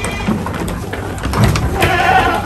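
Goats in a goat pen at an agricultural college bleat loudly and close by, several overlapping calls rising in the second half.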